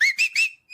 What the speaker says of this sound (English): Want me to try my special whistle?